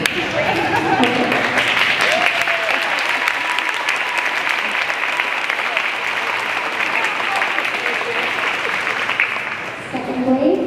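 An audience claps steadily through a school end-of-year honor roll assembly, loud and continuous applause from a crowd that holds for the whole stretch and eases slightly near the end.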